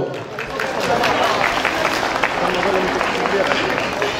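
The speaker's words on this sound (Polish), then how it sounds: "Brawa dla niego!" A crowd at a town festival applauds steadily, a dense patter of clapping over a few seconds, moderately loud and even throughout.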